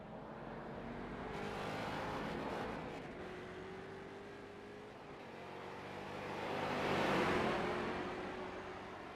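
Street stock race cars circling Concord Speedway in iRacing, engines droning steadily with two swells as cars approach and pass, no voices over the motor noise.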